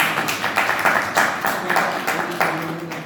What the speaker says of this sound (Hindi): तो आपका एक बार जोरदार तालियों से